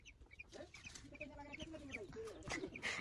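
Large broiler chickens cluck and murmur close by in short, irregular calls, quiet and overlapping against a low background.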